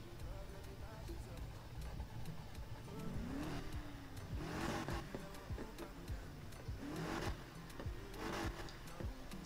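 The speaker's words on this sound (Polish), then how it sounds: "Ale samo to, jak chodzi ten silnik po prostu." BMW M2 engine in NFS Heat revving and rising and falling in pitch over a steady low drone, with several swelling surges across the stretch, while a voice talks over it.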